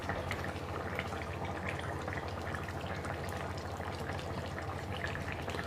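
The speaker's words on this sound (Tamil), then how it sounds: "அதான் அப்படியே ஸ்லோவாக கொஞ்சம் நேரம் கொதிக்கிட்டோம் ஓப்பன்லே." A pot of egg potato curry bubbles and sizzles steadily at a low simmer in an open pot, a continuous close-up gurgle with no talking.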